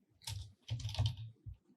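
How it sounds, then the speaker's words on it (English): Keystrokes on a computer keyboard as a console command is typed in Unreal Engine 5.3, a few quick bursts of close, crisp tapping separated by short pauses. "and I can start typing"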